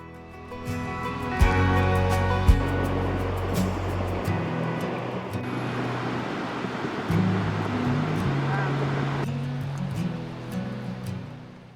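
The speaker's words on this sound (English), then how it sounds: "walk across the bridge over the White River, taking in the rushing water below" Rushing water of the White River flowing beneath a bridge near Mount Rainier, a steady broadband roar with no speech.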